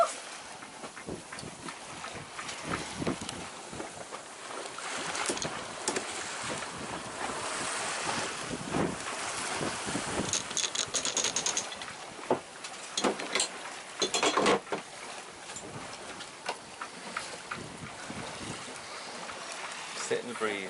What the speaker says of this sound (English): good wind today, and it's some really nice downwind sailing